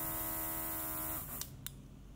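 An airbrush with a built-in compressor running, a steady electric hum with a tonal whine that cuts off after about a second, followed by a couple of faint clicks in near silence.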